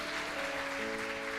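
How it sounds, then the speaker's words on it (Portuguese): A congregation at a Portuguese-language church service claps in a brief, steady burst of applause. "Aplauda o Senhor por isso."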